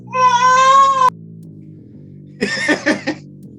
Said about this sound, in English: And look at the kitty cat.